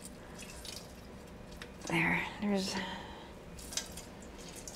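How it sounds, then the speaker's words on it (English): Lemons squeezed by hand for juice in a home kitchen, with a couple of short wet squishing and dripping bursts in the middle, close up against a quiet room; a brief word is spoken. "So we're just gonna juice these lemons."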